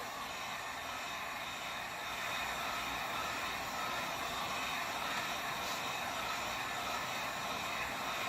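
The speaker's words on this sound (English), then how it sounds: "I'm going to try to get the heat gun to go this way" A heat gun blows hot air back and forth over an epoxy tumbler cup, making a steady, even whooshing hiss that rises slightly after two seconds and stays constant, close and alone.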